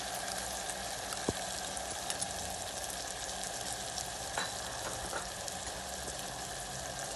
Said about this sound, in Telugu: ఇప్పుడు ఇలా ఫ్రై అయిన తర్వాత మన టమాటా ప్యూరీని కూడా ఇందులో వేసేసుకుందాం.